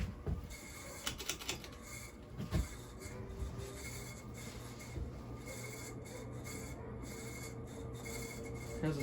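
A Sears plastic Emerson designer ceiling fan runs at high speed. Its steady whirring rub is interrupted by a few sharp clicks and knocks near the start, with no voices.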